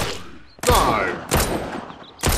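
Loud bursts of gunfire from the survival game Mist Survival, three sharp volleys with short gaps between them, each dying off into a ringing tail.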